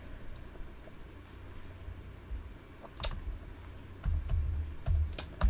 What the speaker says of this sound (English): If you hear me typing